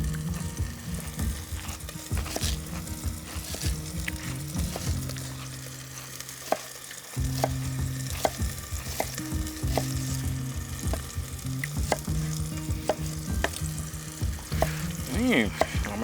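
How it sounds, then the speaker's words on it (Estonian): Chanterelle mushrooms frying in a pan, a loud close sizzle and crackle that runs continuously with brief stirring scrapes, with no voices. "meil kukeseene poisid juba mõnusalt krõbisevad siin"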